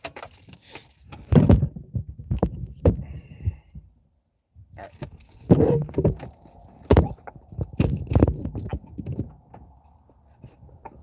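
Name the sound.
keys jangling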